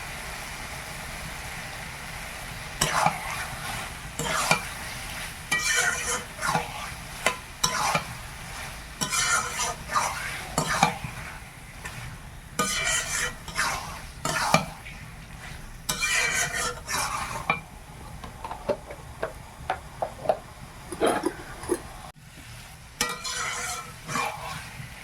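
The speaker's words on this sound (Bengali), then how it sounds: "মাংসটা আমি ভালো করে 5 মিনিট নেড়ে নেই, তারপর ঢাকা দেব।" Chicken pieces seasoned with salt are stirred in a pan over a village cooking fire, a long run of rhythmic scraping and clattering strokes with short pauses, all over a low, steady frying sizzle.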